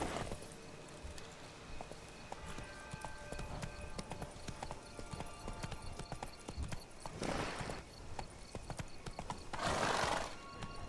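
Roach, the horse in The Witcher 3, trots with even hoof clip-clops close by, and loud bursts of snorting or whinnying break in near the middle and end.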